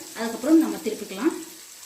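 A masala omelette cooks in a pan with a soft, quiet sizzle, while a voice talks over it for nearly the whole short stretch.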